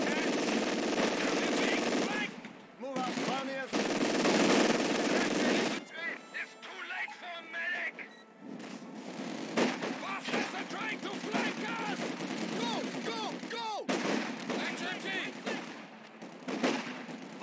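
Bursts of machine gun and rifle fire from a Company of Heroes 2 battle, loud and dense for several seconds, then broken, scattered shots mixed with game voice callouts and battle noise.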